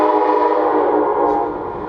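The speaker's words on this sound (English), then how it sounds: "Oh my God, here comes another train." An Amtrak passenger train passes close by, a loud, steady roar with rumbling rail noise that swells slightly and then eases over a couple of seconds, with no talking.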